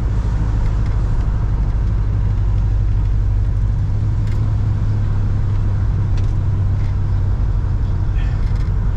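A 1979 Ford F150 pickup truck on the road, its steady loud engine and road rumble droning continuously from inside the cab, with no break throughout.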